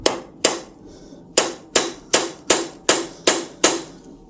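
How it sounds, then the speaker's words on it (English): A hammer strikes a stuck screw on an old motorcycle to shock the threads, nine sharp metallic blows at a fairly even rhythm with a brief pause after the second, loud and close with no talk. "give it a hit with a hammer."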